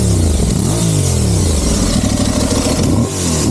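An Aprilia Tuareg 660 motorcycle engine revs with a deep, bassy exhaust note, rising and falling in pitch, loud and close throughout.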